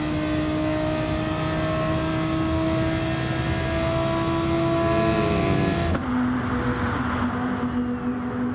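An Audi R8 race car in a sim racing game, heard on board: a loud, steady, high engine whine holds for several seconds, then drops sharply in pitch at a gear change and carries on.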